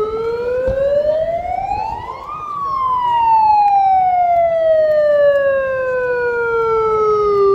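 A loud wailing siren, of the kind used at a taxi strike protest, rises slowly in pitch, peaks, and then falls off in a long steady glide, close and unbroken.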